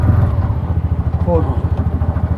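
A motorcycle pulling away in gear, its engine chugging in a steady low pulse close to the microphone while someone talks over it.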